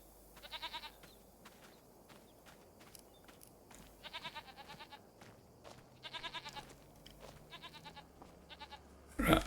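Goats in the video game Farming Simulator 25 bleat in repeated bursts of wavering calls spaced across the stretch, over a low ambient bed, with a sharp loud thump at the very end.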